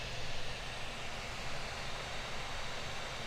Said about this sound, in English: those fans, they get pretty loud